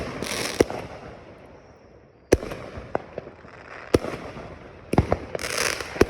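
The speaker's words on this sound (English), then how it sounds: "I got fireworks to the left of me, the right of me, the front of me, and the back of me" Fourth of July fireworks burst all around: sharp, loud booms at irregular intervals over a crackling, hissy background, some blasts close and others farther off.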